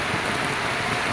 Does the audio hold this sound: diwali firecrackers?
no